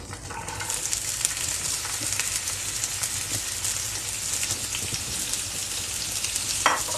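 Chopped onions sautéing in a pan with cumin seeds, a dense steady sizzle close up, broken by a few light scrapes of a stirring spoon.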